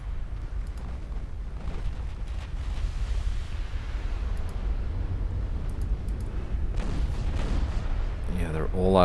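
Naval guns firing high-explosive shells at a battleship in the naval strategy game Ultimate Admiral Dreadnoughts, heard as a continuous heavy low rumble of distant gunfire and booms, fairly loud and steady, with a voice talking over it.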